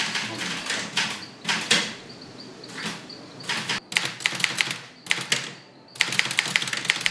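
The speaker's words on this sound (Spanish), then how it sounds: "Esta vieja máquina de escribir es una de sus pocas posesiones." An old manual typewriter being used by a bishop, sharp rapid key strikes in bursts with short pauses between runs, fairly close and clear.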